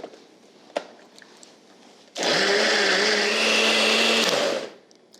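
A blender whirs loudly for about two and a half seconds while blending egg yolks with kimchi, starting abruptly after a quiet stretch with a faint click and then winding down at the end.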